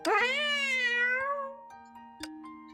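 Cat meowing in the video game Honkai Impact 3rd, one long, drawn-out, clear meow with a falling tone, loud and close, followed by faint ticking game sounds.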